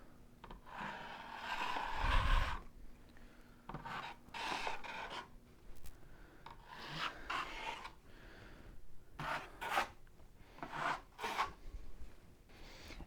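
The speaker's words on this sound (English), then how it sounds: "Now, go ahead and get some mud on your trowel. Place it along the seam and smooth it across." A trowel spreading and smoothing drywall mud along a wall seam, giving repeated soft rasping scrapes in uneven strokes, close and moderately loud, with no talking.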